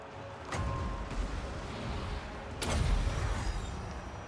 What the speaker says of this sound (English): Mortar!